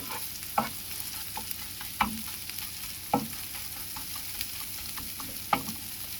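An egg omelette frying in a pan gives a steady close sizzle, with a few sharp scraping clicks of a spatula spaced roughly a second apart.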